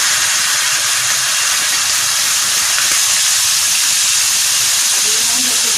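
Curry leaves and tamarind juice hit hot oil with browned cumin, throwing up a loud, steady sizzling hiss that fills the whole stretch with bright crackling and spitting, no voices over it.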